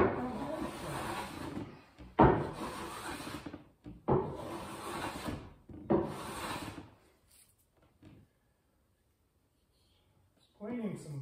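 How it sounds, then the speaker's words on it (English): Plywood being cleaned with a hand tool during a truck camper build, heard as four separate rasping scrapes, each a couple of seconds long, followed by a quiet gap and the start of another stroke. "Cleaning some plywood with this one."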